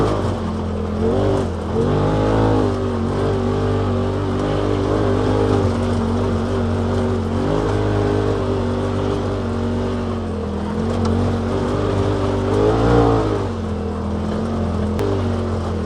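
A Polaris RZR XP Turbo side-by-side running on E85 fuel outdoors in Colorado, its turbo engine loud and close, droning steadily with repeated rising revs and throttle blips.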